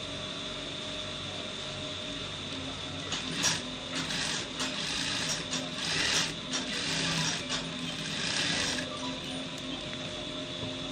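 Sewing machine stitching fabric on the good side, a steady close mechanical whir running throughout with a few slightly louder surges.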